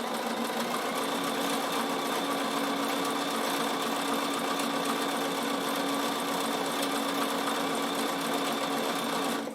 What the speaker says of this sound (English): So I'm just satin stitching down, and I'm going over the edge.